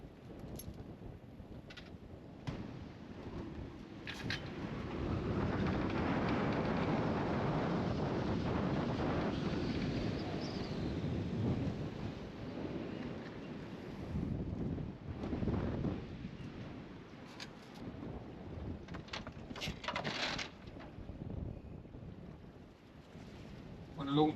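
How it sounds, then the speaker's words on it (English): Strong, gusting wind buffets a moored boat, roaring steadily into the microphone with surges and lulls, close and loud throughout. "The gusts have been going mad today. Really, really, really strong gusts."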